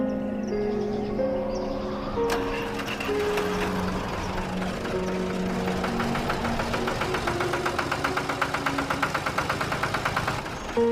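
Tractor engine running steadily at close range, a continuous knocking diesel rumble with rhythmic pulses, heard alone without talk.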